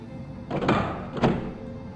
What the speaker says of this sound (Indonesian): Sekarang kita bakal buka ya, pintu basement ini.